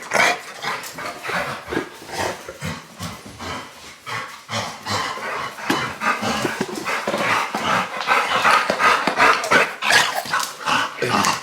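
Several dogs bark loudly and continuously at close range, with overlapping yaps and panting filling the whole stretch.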